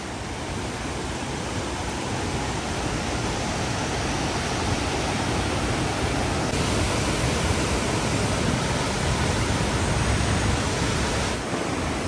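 A hidden waterfall crashing down and throwing fine spray, a dense, steady roar of falling water close by that never lets up.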